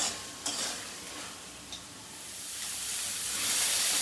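Prawns fry with pui greens in a pan, a steady sizzling hiss that builds gradually louder, with a couple of faint stirring knocks near the start and no voices.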